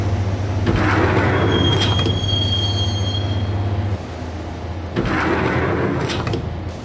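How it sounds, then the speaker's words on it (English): Train in a PS4 video game rolling along with steady rumble and high wheel squeal, the sound briefly dropping and surging again as it travels; a faint door-like slide near the start. "the train doors had already shut behind me, and I was in for the ride"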